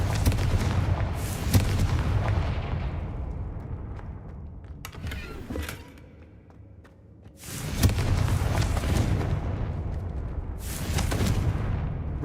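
Confringo fire spell bursting in the video game Hogwarts Legacy: heavy booming blasts and rumbling roars, loud and close, with a quieter lull between explosion bursts.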